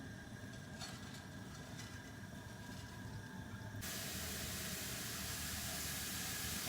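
Raw sesame seeds roast in a pan over a fully open flame, a steady broadband sizzling hiss that runs throughout and grows slightly louder and brighter partway through, with faint stirring scrapes and no talk.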